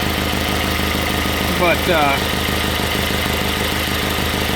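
An Audi B6 A4 turbo engine idles steadily up close with a dry, thudding pulse from a leaking exhaust manifold, and someone speaks briefly over the running engine.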